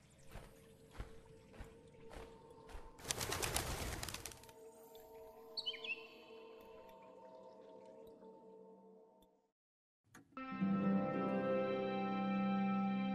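A little bird chirps in the cave game Colossal Cave VR, with a few short, high calls over a rumbling, dripping cave ambience, followed by a pause and then a loud, sustained tonal passage.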